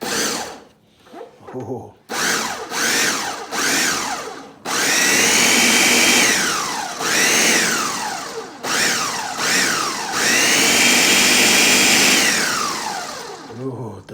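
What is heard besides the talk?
blender in pulse mode blending enchilada sauce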